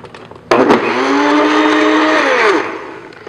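A blender whirring through persimmon ice cream, starting abruptly, then a loud steady motor whine that slowly lowers in pitch as it runs for about two seconds before cutting off.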